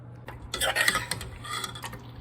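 Spices going into a pot of mutton for biryani, heard as a few light metallic clinks and scrapes of a spoon against the pot, close and fairly soft over a low steady hum.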